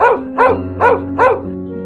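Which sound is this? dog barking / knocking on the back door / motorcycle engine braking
dog barking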